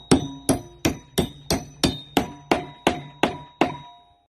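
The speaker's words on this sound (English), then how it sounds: "He's now going to whack the nail in." A hammer drives a six-inch nail into the wooden handle of a garden fork with about a dozen sharp metallic strikes at a steady, even rhythm, each ringing briefly before the next, close and clear with no talk.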